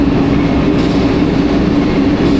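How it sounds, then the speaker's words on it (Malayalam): An old Lisbon metro train rumbles past on the platform, a loud, continuous roar of wheels and cars with a steady low drone throughout. "ഇതാണ് ഇവിടുത്തെ മെട്രോ"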